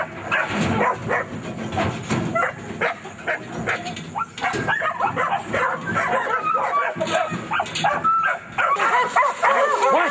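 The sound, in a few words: dogs barking in a bay pen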